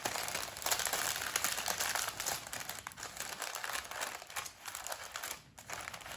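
Foil or parchment crinkling and creasing as a salmon cooking packet is folded over and pressed flat, a steady close rustle running throughout with a brief pause near the end.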